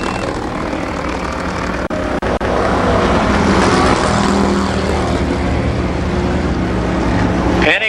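Race cars lapping Columbus Motor Speedway in a 1993 race, a loud continuous engine roar filling the whole stretch with a steady drone and passing surges, no break in the noise and no voice heard.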